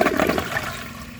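A Vitromex Marathon II front-flush comfort-height toilet from 2006 flushes with a loud, close rush of water that tapers off within about a second, with no voices.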